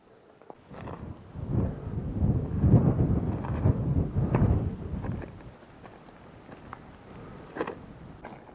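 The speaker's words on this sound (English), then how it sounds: "A little bit windy" Gusty wind buffeting the microphone in low rumbling waves on a mountain saddle near Quartzsite, strongest in the middle and easing off toward the end, with no voices.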